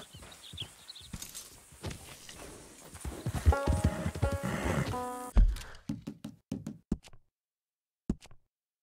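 A filly in Red Dead Redemption II clops her hooves in uneven knocks under a swelling, roaring game score, then a few sharp isolated hoof strikes ring out before fading to silence; no clear whinny stands out.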